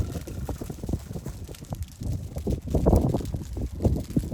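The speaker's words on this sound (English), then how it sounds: "You guys, it's a little windy." Gusty wind buffets the microphone out in an open field, a rough, rumbling roar that swells and fades unevenly and grows stronger toward the end.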